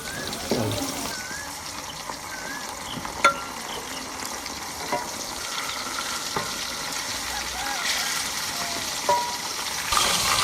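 Chicken frying in a pan with golden onions for an authentic jungli chicken pulao: a steady, close sizzle with scattered sharp stirring scrapes and clinks throughout.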